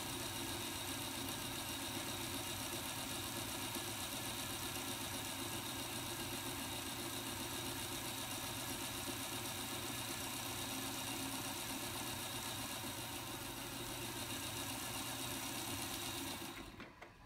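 A 1920 antique Singer Model 127 sewing machine, overhauled and refinished, winds a bobbin with a steady, even mechanical whir that runs unbroken and close for the whole stretch, easing off only at the very end.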